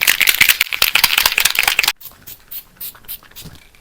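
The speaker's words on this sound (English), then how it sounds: "You have to shake it with all you can hear." A Kiko Prime and Fix setting spray bottle is shaken hard for about two seconds, making a loud, fast rattle close up, followed by a few softer, scattered shakes.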